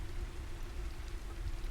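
Steady rain falls constantly on an evening by a fire, a dense even hiss with a faint low hum beneath, no voices.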